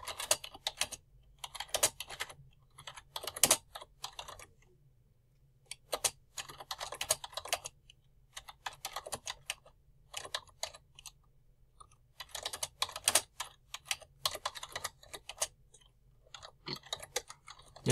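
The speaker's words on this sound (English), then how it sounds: "sorry it takes me a while to type" Fingers tapping on a computer keyboard in irregular bursts of quick clicks separated by short pauses, close and fairly crisp, with no talking.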